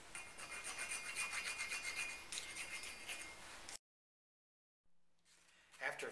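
Rasp filing carved stone with a continuous close gritty scraping in rapid strokes, then silence and a few faint scrapes and knocks.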